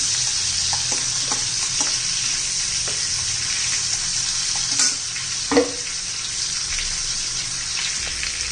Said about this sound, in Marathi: एक 2 मिनिट चांगलं तेलामध्ये आपण मिरच्या परतून घ्यायच्या